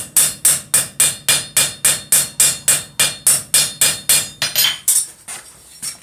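A hammer strikes hot steel while forging a bottle opener, about fifteen sharp, evenly spaced metallic blows in a steady rhythm, close and loud, then a few lighter irregular taps as the strikes end.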